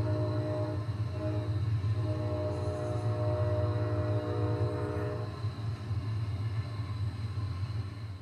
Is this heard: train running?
yes